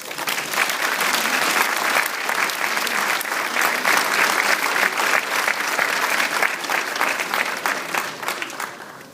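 Sustained applause from an audience at a Walk Together community event in 2013, welcoming a refugee speaker to the stage; dense, steady clapping that fills the whole stretch and fades only slightly at the end, with no talking over it.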